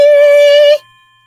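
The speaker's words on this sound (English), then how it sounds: "Count the chimes." A single clock chime rings out in a quiet room, a loud bright struck tone with ringing overtones that is cut off sharply after under a second, leaving near silence.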